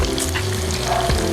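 Chicken sizzles and crackles steadily in hot oil, a close, continuous frying hiss with small pops.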